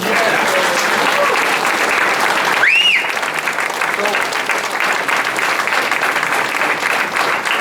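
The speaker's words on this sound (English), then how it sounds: "Please, let's give a round of applause for Marty Goodman" Sustained applause from a memorial audience honoring Marty Goodman, loud and dense throughout, with a brief rising tone cutting through near the middle and voices faintly under the clapping.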